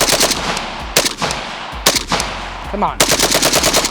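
Kalashnikov USA AK rifle bump fired from a 40-round magazine, loud rapid strings of shots close by, broken by short gaps, with someone speaking briefly between bursts.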